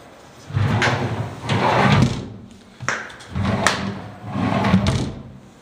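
Wooden wardrobe drawers slide open and shut several times in a row, each with a rumbling glide and a soft thud, close and fairly loud.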